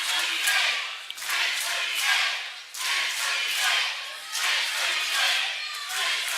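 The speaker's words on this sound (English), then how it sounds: "You can hear the crowd getting into it." An indoor crowd at a church games relay event cheers and shouts in loud, surging waves that rise and fall several times, with scattered claps and thuds.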